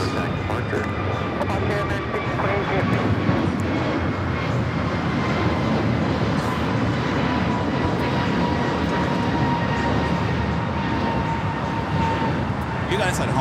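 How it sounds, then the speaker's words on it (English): American Airlines Airbus A321neo taking off from LAX, a loud, steady jet engine roar with a whining tone that holds constant throughout, close and dominating, with voices faintly underneath. "That was American Airlines 1528 taking off to Philly on the A321neo."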